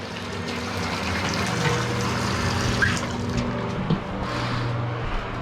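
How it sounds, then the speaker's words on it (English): Tap water runs steadily while rinsing during house cleaning, a continuous mid-level rush and trickle with a low pump-like hum underneath and no talking. "We're gonna rinse."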